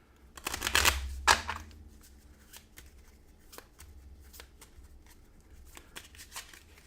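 Playing cards riffle-shuffled at a tabletop board game session, a dense burst of crisp flutters near the start followed by a sharp riffle snap, then softer shuffling and light card handling.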